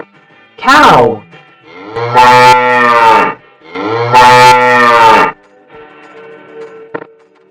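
A cow moos twice in long, loud, drawn-out lowing calls separated by a short pause, followed by quieter farmyard background.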